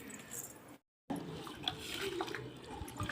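Water poured into a vessel of raw rice to soak it for coconut appam. A short splashing pour breaks off into a brief silence, then resumes as a steady, close trickle and slosh.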